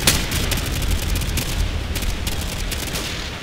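Gunfire in Call of Duty, a rapid dense burst of automatic shots followed by continued crackling fire and booms, loud and close, with no voices over it.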